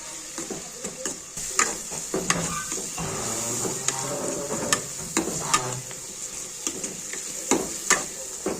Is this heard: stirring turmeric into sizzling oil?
yes